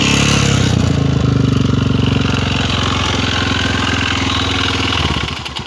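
A motorcycle engine fitted with a 190 kit idles loud and close, its fast, steady, chugging pulse carrying a rattling knock from a worn connecting rod, before the sound drops off at the end.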